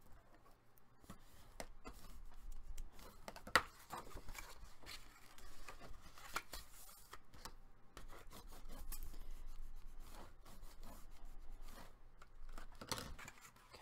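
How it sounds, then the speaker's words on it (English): A tool burnishes a score line on paper for a mini album, giving faint, close rubbing and scraping strokes with small taps, quiet and without talk. "we're going to go ahead and burnish on the score."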